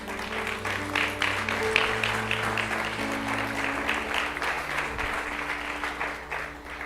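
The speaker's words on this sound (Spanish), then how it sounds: "Dale un aplauso al Señor." Church congregation applauding at a Spanish-language service, a steady wash of clapping from many hands at moderate level throughout, with a low sustained organ or keyboard tone underneath.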